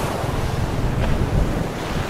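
Continuous roar of sea waves washing onto a beach, steady and fairly loud with wind buffeting the microphone and no talking.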